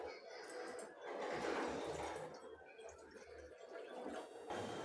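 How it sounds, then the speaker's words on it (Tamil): Water, about 200 ml, pours into a cooking pot, a faint continuous splashing and trickling stream of liquid heard steadily at low volume. "இரநூறு எம்எல் அளவு நான் தண்ணி சேர்த்துக்கிறேன்"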